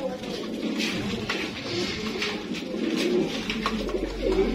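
Pigeons coo repeatedly nearby, soft throaty calls rising and falling over a low background hum.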